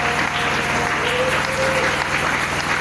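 A church congregation applauds steadily and loudly in a dense, continuous wash of clapping, with some crowd voices blended in.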